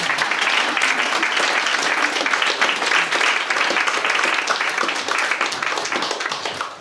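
A full audience at a talk in Cork in March 2024 claps in a dense, even wash of applause lasting about seven seconds, loud and continuous with little talk.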